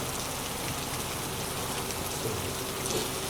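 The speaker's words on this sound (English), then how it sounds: "it is actually raining quite heavily" Heavy rain pours steadily on a boat sheltering in a storm drain, a dense, even hiss of drops on surfaces with no voices.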